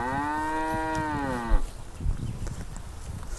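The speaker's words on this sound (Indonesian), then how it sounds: "Seperti sapi Australia." A cow trapped in an irrigation channel gives one long, loud, close moo, followed by quieter splashing and shuffling sounds.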